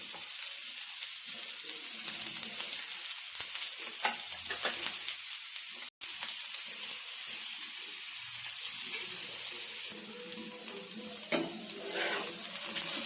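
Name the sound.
boiled potatoes frying and stirred in oil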